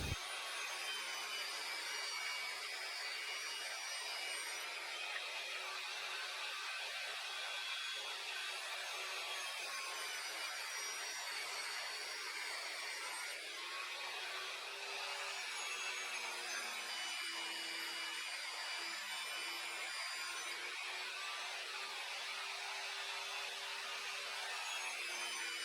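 Pallet wood is ripped into 2.5 cm strips for a tray base on a table saw, giving a continuous, fairly quiet whirring and grinding cut with a high whine throughout.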